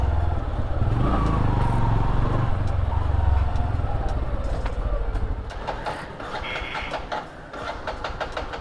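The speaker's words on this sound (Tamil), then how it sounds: "வண்டி அடைக்க ஆரம்பிக்குது" Motorbike engine beginning to choke and sputter on the road, a loud close rumble that turns into uneven, stuttering pulses and dips as it runs on.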